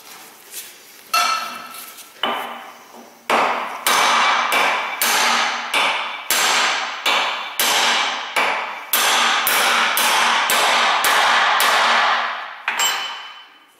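Heavy hammer pounding a U-joint through a vehicle driveshaft yoke, a run of about a dozen loud, sharp metallic strikes at a steady rhythm, close by, with no talking.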